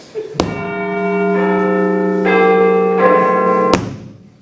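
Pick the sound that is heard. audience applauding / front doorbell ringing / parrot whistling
front doorbell ringing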